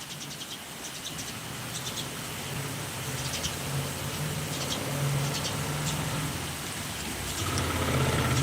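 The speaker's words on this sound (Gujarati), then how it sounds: "ફાઇનલી વરસાદ જોરદાર પવન સાથે આવી ગયો છે" Heavy rain driven by strong wind, a steady broadband roar that swells slightly toward the end, with faint distant hum and sparse chirps in the background; no one talks.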